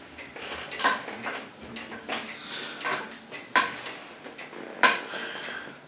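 Pots, pans and silverware clatter as they are handled in the lower basket of an Electrolux dishwasher, with a series of close, sharp metallic clanks and scrapes at irregular intervals and no talk.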